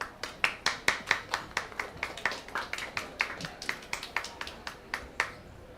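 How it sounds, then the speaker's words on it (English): A small group claps at a climate adaptation event, with distinct, fairly sharp hand claps in a loose, irregular rhythm that continues for several seconds in an otherwise quiet room. "please give her a big applause."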